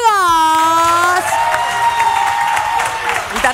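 A television studio audience greets the day's guests with whooping, cheering and scattered clapping that swell after a drawn-out shout, running on as a lively crowd noise.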